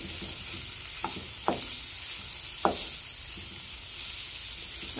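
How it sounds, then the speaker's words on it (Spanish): Pork and minced garlic fry in a pan with a steady, close sizzle, broken by a few sharp utensil taps and stirring scrapes, and no talking. "vamos a agregar lo que es el ajo picado y lo vamos a freír 1 minuto más"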